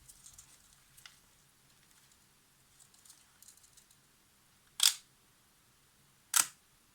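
Two crisp shutter releases from a Zorki 3M rangefinder camera after a full overhaul, sharp isolated clicks about a second and a half apart, close and loud over a quiet room with faint handling noises before them.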